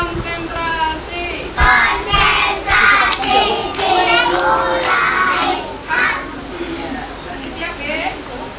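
Kindergarten children in an Islamic school perform the tepuk konsentrasi clapping chant, with sharp rhythmic hand claps punctuating loud group voices chanting together, close and lively throughout.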